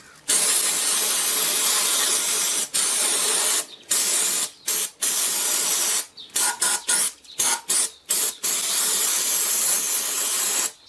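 Cleaner sprays in repeated bursts onto the very dirty carburetor of a Briggs and Stratton 7hp engine, long hissing blasts broken by short pauses, then quicker bursts, close and loud.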